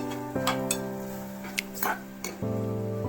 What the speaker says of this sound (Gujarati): પછી એમાં આપણે ગવાર એડ કરી દઈશું અને પછી તેને બરોબર મિક્સ કરી દઈશું